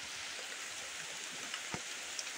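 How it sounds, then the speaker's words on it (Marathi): Muddy rainwater in a monsoon stream runs right beside a garden, making a faint, steady rushing wash with no voices over it. "सो पाणी वाहतं आहे"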